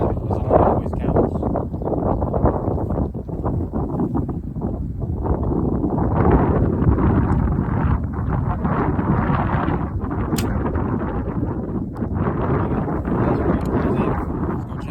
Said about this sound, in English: I like shooting in this area because it's pretty windy.